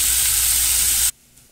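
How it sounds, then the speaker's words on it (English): Onions with salt frying on high heat on a stovetop, a loud, steady broadband sizzle lasting about a second before cutting off abruptly to near silence. "let me just let it cook on the stove for about 3 to 4 minutes on high"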